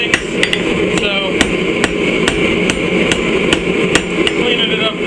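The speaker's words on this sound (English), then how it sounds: "now we're just going to, like I said, clean it up a little bit with the hammer" Hammer blows ring out on an anvil while a Patriot Scalper knife is forged, a dozen sharp, evenly spaced strikes over steady background noise, with a slower rhythm at first and then a quicker one.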